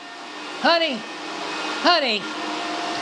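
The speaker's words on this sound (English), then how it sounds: "She got this new fancy Nancy vacuum cleaner and she loves it." A vacuum cleaner drones steadily throughout at close range, with a voice speaking briefly over it twice.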